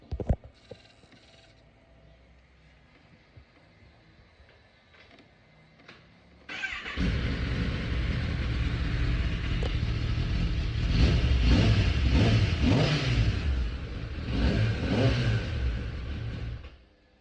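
Quiet for several seconds with faint clicks, then a crash-damaged Kawasaki Z900 motorcycle engine starts and revs loudly and steadily, rising and falling before cutting off.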